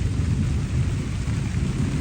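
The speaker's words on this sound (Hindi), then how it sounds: "बारिश तो बारीक बारीक है" Steady fine rain falls over waterlogged farm fields, a dense, even hiss with a low rumbling undertone and no voices.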